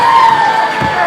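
A wrestling crowd roars and cheers at a cage match, loud and continuous for a brief moment, with an announcer's voice carrying over the noise.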